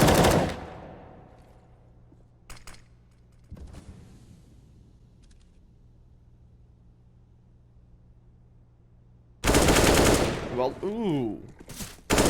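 CS:GO gunfire: a sharp burst of shots opens, a few scattered single shots follow over a quiet stretch, then a dense loud volley of rapid fire returns near the end, with a brief voice exclaiming.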